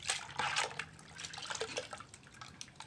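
Baobab seeds are poured into water and washed by hand to make baobab juice, giving bursts of splashing and sloshing with a few drips, close and fairly loud, no talk.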